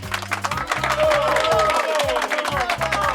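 An audience applauds during a radio drama show, a busy crowd-wide clatter of clapping with a low musical or electronic tone running underneath.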